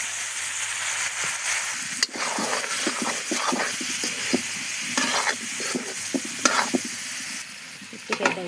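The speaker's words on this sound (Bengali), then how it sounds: "পেঁয়াজটাও ভাজা ভাজা হয়ে গেছে, এখন আমি সবজিগুলো দিয়ে দিব।" Vegetables sizzle steadily in a pan with fried onion and spices, giving a continuous close hiss broken by scraping stirs throughout.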